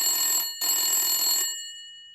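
A telephone rings in two bursts of electronic trilling, each about half a second to a second long with a short gap between, close and clear with no talk over it, then the sound cuts off into silence.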